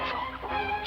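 Chickens give a short burst of clucking, close and moderately quiet, lasting under a second with no talk over it.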